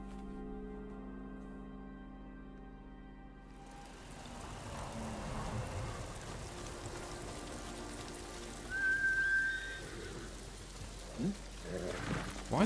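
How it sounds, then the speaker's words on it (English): Steady rain falling in Ghost of Tsushima, a soft even hiss that enters after a quiet start and continues throughout, with faint whistling tones and a few light knocks, no talk. "It's been raining the whole time I've been playing today, pretty much."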